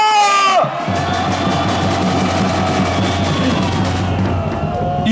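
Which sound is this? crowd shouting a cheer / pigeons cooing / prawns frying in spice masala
crowd shouting a cheer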